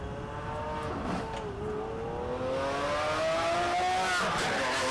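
An SVJ sports car engine revs in played-back footage, its pitch climbing steadily in a loud, continuous howl that swells toward the end, with no talk over it.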